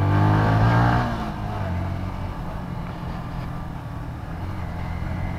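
Motorcycle engine revs hard during a wheelie on a busy road, a loud rising roar in the first second that settles into a steady, fairly close engine drone with traffic noise.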